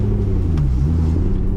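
A straight-piped C6 Corvette rumbles with a deep, steady low exhaust drone, loud and close, with no clear rev rise across the short stretch.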